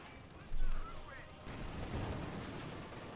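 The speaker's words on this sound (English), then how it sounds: "Machine being hosed down with a light machine gun" Light machine gun fire in Company of Heroes 2, a short loud burst of shots up front followed by sustained mid-level battlefield gunfire and noise, with faint voices in the background.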